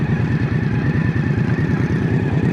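An Indian Scout Rogue motorcycle on the road gives a loud, close engine rumble with a steady pulsing throb, continuous for a couple of seconds as it cruises through turns, with wind noise and no talk.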